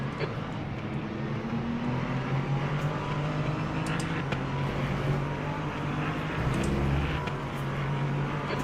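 Race cars in the Le Mans Ultimate racing game drone steadily with engine hum and occasional tones rising and falling as cars pass, at moderate, even volume.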